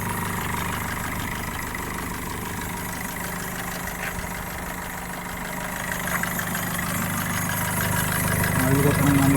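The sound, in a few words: 2019 Maruti Suzuki Vitara Brezza diesel engine idling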